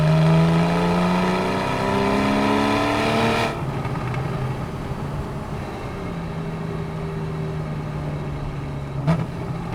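A Porsche 911 Carrera S 991.1 engine pulls loudly through rising revs, then eases off into a lower steady burble while driving, with a brief sharp pop near the end; nearby and no talking.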